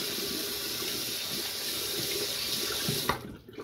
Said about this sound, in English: And all I do whenever I rinse between passes is I'll put some water in my hands